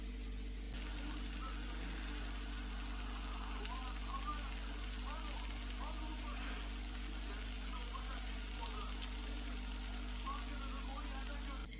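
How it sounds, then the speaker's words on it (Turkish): Eggplant gözleme flatbread frying in an oiled pan over low heat, a steady soft sizzle and crackle running throughout beneath a constant low hum. "Kısık ateşte tarafını da pişirelim"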